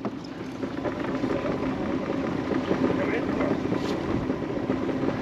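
Small boat's outboard motor idling steadily on a tidal current while mud crabbing, a constant low rumble with water wash throughout, close and fairly loud.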